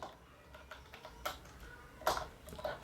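Typing on a computer keyboard, with a few sparse, faint key clicks spaced irregularly over a quiet background and no talking.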